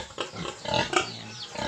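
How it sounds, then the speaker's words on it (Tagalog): A sow on a farm grunting up close, a few short rough oinks and snorts in quick irregular succession. "Ito yung isang inahin."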